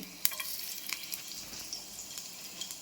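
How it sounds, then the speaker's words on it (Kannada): Small pieces of chopped garlic frying in hot oil in a pot, a faint, soft sizzle with scattered light crackles and pops, heard close and alone. "ಈಗ ಒಂದು ಪಾತ್ರೆಗೆ ಎಣ್ಣೆ ಹಾಕಿದ್ದೀನಿ. ಅದಕ್ಕೆ ಸ್ವಲ್ಪ ಬೆಳ್ಳುಳ್ಳಿ ಚಿಕ್ಕ ಕಟ್ ಮಾಡಿ ಹಾಕ್ಕೊಳ್ಳಿ."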